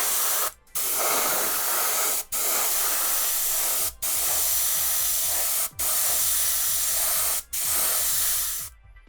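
An airbrush with a 0.5 nozzle sprays Lifecolor acrylic primer in five long, steady hissing bursts, each cut by a brief pause, loud and close.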